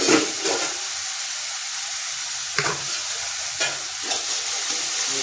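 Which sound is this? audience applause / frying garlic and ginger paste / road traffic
frying garlic and ginger paste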